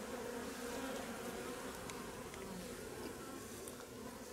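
Honeybees buzzing at a hive being fed, a dense continuous drone of many insects close by, steady and fairly faint with no speech.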